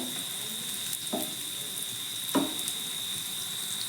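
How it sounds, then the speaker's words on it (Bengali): Potato snacks shallow frying in a little oil, a steady fine sizzle throughout with a couple of brief stirring clinks, close and even in level, with no talking. "আমি তেলের পরিমাণটা অল্প দিয়েই ভাজছি"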